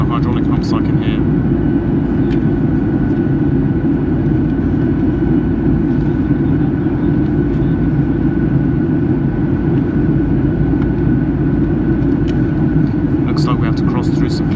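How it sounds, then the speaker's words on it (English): Steady, loud roar of a Norwegian Boeing 737-8's engines and hydraulic pumps fills the cabin during the climb, with an unbroken broadband drone and a faint high whine throughout. "hearing those engines and the fuel pumps and the hydraulic pumps"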